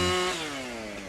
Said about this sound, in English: Boom. Magical chainsaw.